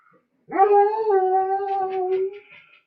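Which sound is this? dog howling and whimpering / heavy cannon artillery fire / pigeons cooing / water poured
dog howling and whimpering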